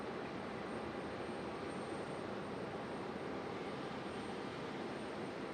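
Aeromexico Connect Embraer E175 jet at Raleigh Durham airport, a broad steady engine roar holding evenly throughout, distant but filling the scene, with no talking.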